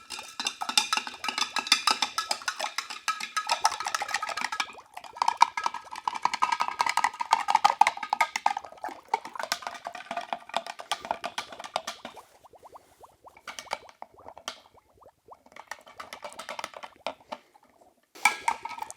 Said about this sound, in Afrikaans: Okay, so ek gaan die gou so 'n rukkie roer.